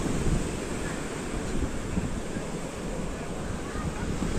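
Storm waves in Odesa crash over a breakwater as a continuous, loud roar of surf mixed with strong wind blasting the microphone, with no clear individual breaks standing out.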